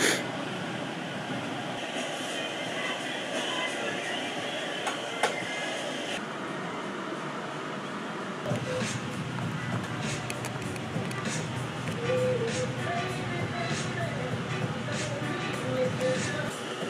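A hair dryer blows steadily close by as a freshly silkscreened print on DIY fishing apparel is dried. Its continuous rushing whir changes in loudness partway through, with voices occasionally talking over it.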